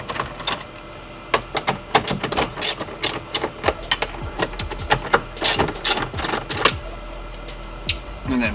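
Ratchet wrench loosening 10 mm bolts holding a car stereo in a Subaru BRZ / Toyota FRS dash, giving fast bursts of close, sharp metallic clicks in irregular runs with short pauses between them.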